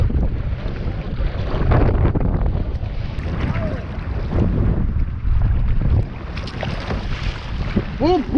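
Strong wind batters the microphone while choppy water slaps and splashes around a kayak on Diablo Lake in North Cascades National Park, Washington, forming a loud, continuous rush.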